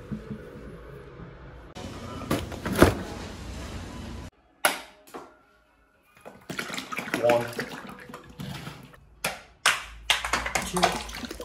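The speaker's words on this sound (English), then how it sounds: "we're going to fill this bucket full of bleach and some hot water" Hot water splashes and gushes into a bucket mixed with bleach, broken by short pauses and clunks, with someone talking briefly over it.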